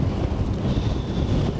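Cold wind buffeting the microphone on a boat cruising the Norfolk Broads between Loddon and Norwich, a dense low rumbling roar with steady gusting and no voices.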